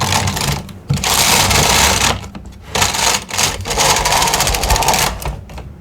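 A 1990s knitting machine working yarn, its carriage making loud, rapid mechanical clatter in several sweeping passes broken by brief pauses, close and alone.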